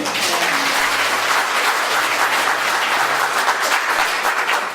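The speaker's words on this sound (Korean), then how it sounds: "여러분 모두를 위해서 우리 뜨거운 박수를 한번 시작할까요, 여러분?" Warm, sustained applause from an audience at a youth workshop on unification in Gyeonggi and Incheon, a steady wash of many hands clapping throughout.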